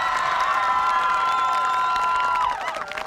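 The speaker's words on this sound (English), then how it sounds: "Those who think Joel Marr won, clap now." A Bush Slam audience in Cowra claps and cheers for poet Joel Marr, a loud, steady crowd roar with whistles and shouts that holds for a few seconds and then tapers off near the end.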